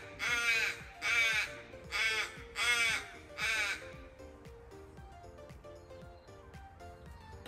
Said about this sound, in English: there's a raven just here.